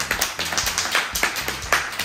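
A few people clap their hands in a small room, quick uneven claps close by and fairly loud, no talking.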